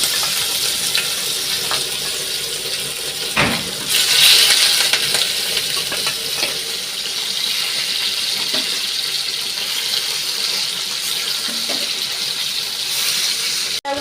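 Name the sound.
hilsa fish frying in oil in a wok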